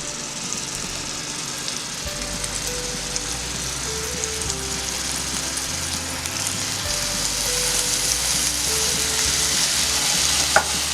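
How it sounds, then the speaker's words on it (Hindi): Marinated tandoori chicken fries in hot oil, a steady close sizzle with constant crackle that swells slightly toward the end, no voices. "तेल हमारा गरम हो गया है। अब हम इसमें चिकन डालेंगे।"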